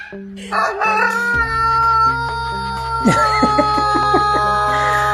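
A rooster crows loudly and close, one long drawn-out call with a rising then falling tone, followed by a few short clucks.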